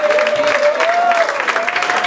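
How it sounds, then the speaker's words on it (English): Audience applause at a live concert in a small bar venue, a short burst of clapping and crowd noise with a faint sustained tone running underneath. "please, if you could just give a big round of applause to Russell."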